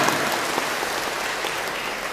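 A church congregation applauding, a dense, steady wash of clapping that holds evenly throughout, loud and full with no voices standing out.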